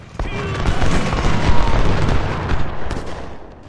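Booming artillery fire in the Civil War strategy game Ultimate General: Civil War, a dense continuous barrage of cannon blasts rumbling steadily, with a voice talking over it.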